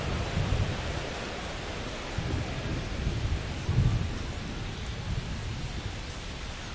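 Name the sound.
rain coming down on a baseball field, with thunder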